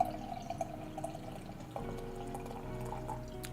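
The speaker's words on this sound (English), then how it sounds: "let's pour this beer into this glass. The fat style tulip glass by Rouge River." Rouge River Brewing's Melange a Trois, a mixed-culture farmhouse beer, is poured into a fat tulip glass, making a soft, steady trickle and faint splashing that swells a little midway, with no speech.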